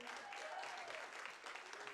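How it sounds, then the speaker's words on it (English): An audience at a live music contest heat applauds steadily, a dense continuous clapping that fills the room at even loudness, with a little cheering. "Give a big round of applause, everybody, to Harry and Laurie."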